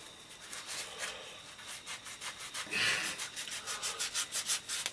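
Light hand sanding of an old tape recorder with a sponge: soft, rhythmic scratchy strokes, close and quiet, speeding into quicker back-and-forth rubs toward the end.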